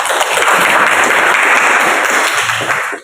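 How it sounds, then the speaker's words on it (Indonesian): Applause from a classroom audience fills the moment, a dense, steady clapping that holds loud and close for about three seconds before cutting off. "Beri aplaus untuk Sinsa."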